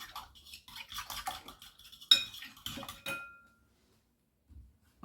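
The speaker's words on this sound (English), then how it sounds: "I'm going to get this started by mixing it up." A spoon clinks and scrapes steadily against a bowl while ingredients for a vegetarian casserole are mixed. The close, busy clattering lasts a few seconds, then stops and leaves near silence.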